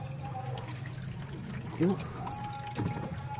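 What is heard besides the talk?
water draining from washing machine drain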